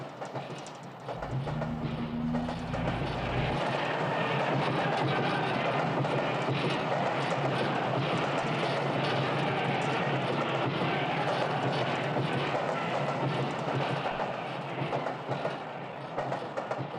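A train passes in the 1979 film Stalker: a loud, sustained rumble with rhythmic clickety-clack of wheels on rails and a low tone early on, filling the whole stretch.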